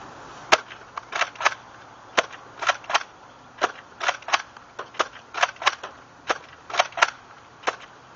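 A Nerf Retaliator dart blaster fires a string of sharp plastic snaps, each shot a quick click-and-thump with a priming clack between them, in a steady irregular rhythm close to the microphone with no talking.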